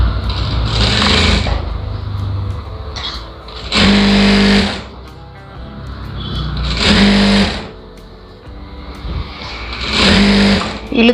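A sewing machine stitches a folded blouse lining in loud bursts of rapid needle chatter, four runs a few seconds apart with quieter handling sounds between them.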